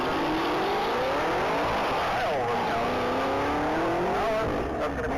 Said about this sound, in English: That's going to be a 2015 Chevrolet Camaro CL1.